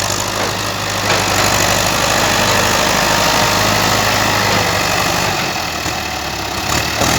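A loud, steady Ford 6610 farm tractor engine chugs continuously at close range, a rough mechanical drone with a pulsing low rumble and no voices.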